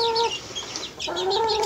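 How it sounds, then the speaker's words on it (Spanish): A hen gives a couple of short clucking calls with her chicks' soft high peeps mixed in, close by and fairly quiet. "La gallina vuelve con sus crías."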